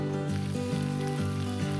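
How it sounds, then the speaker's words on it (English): Scalloped cabbage in a cast iron pan fresh from a 350-degree oven sizzles and bubbles steadily, a close, continuous crackling hiss with no talk over it. "Listen to that sizzle and bubble."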